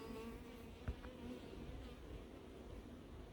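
Honeybees buzz steadily around a capture box at an apiary in Crosne, a dense, continuous hum of many wings with one brief knock partway through and no voices.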